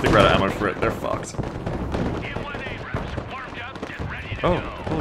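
Heavy gunfire and booming shots in a modern military strategy video game, irregular loud bursts mixed with people talking over the battle.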